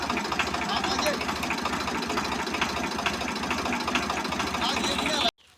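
A tractor engine idles steadily at close range, a low chugging throb running nearly unbroken before cutting off abruptly near the end, with voices talking over it.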